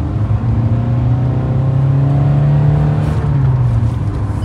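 A Kia Sonet HTX 1.5 diesel with a manual gearbox pulls hard in fourth gear during a top-speed run, its engine drone steady and loud, rising gently over the road roar.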